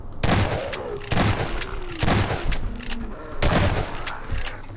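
Four heavy gunshot bursts in Half-Life 2 Episode 2 hit at roughly one-second intervals, each a loud, close blast with ringing debris between shots.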